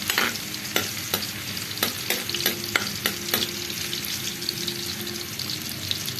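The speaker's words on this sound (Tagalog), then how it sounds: "ilaglag na natin yung ating bawang" Garlic frying for adobo in a hot pan, a constant hiss of sizzling oil with sharp spatula scrapes and taps spaced through, loud and close with no talking.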